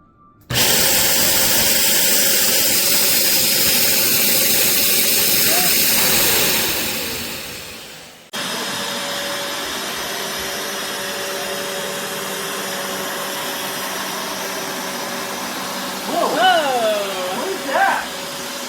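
A Bissell Revolution HydroSteam Pet upright carpet cleaner whirs loudly with a steady high motor whine that winds down around mid-clip, then restarts at a lower, steady drone with some squeaky scrubbing near the end.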